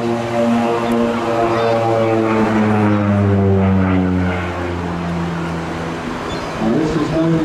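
An OV-10 Bronco twin-turboprop aircraft flies past at the Rhyl Airshow, a loud, sustained propeller drone with a steady engine tone that swells and shifts slightly in pitch, with faint crowd or announcer sound underneath.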